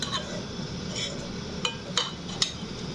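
A utensil stirring payesh in a cooking pot, with a few sharp metallic clinks over a steady low background hiss.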